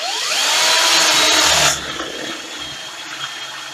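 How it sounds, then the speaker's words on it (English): A power drill with a 5/16 inch spade bit whirs loudly and steadily as it bores through a wooden stool over a backboard, then cuts out abruptly, leaving faint room noise. "this 5/16 inch spade bit seems about the same size as this T-nut, so I'll just drill all the holes"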